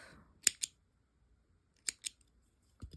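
Scissors snip through crochet yarn in a few crisp, close cuts, two quick snips, a pause, then two more and a final softer pair, with no talking.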